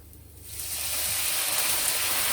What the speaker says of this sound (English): Now we're going to drop our diced tomatoes.